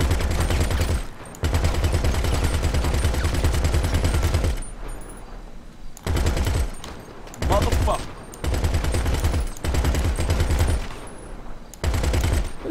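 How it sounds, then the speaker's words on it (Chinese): Automatic weapon fire in the video game GTA 5, in a snowy hilltop camp setting with unlimited ammo: long, loud, continuous rattling bursts broken by several short pauses, close and dominant. "有人建议我测试一下这个火力怎么样？"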